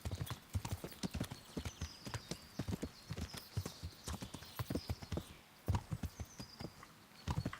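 Horse hooves in Kingdom Come: Deliverance clopping at a steady walking rhythm along an overgrown path, close and clear, with no talk over them.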